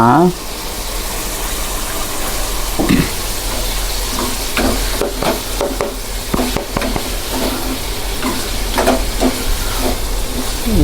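Crab curry ingredients sautéing in a pan, a loud continuous hiss and sizzle with irregular stirring scrapes, close and busy, likely cooked outdoors in a rustic setting.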